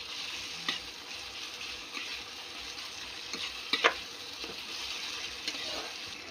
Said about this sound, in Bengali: এবার এটাকে ভালো করে পেঁয়াজের সাথে কষিয়ে নেব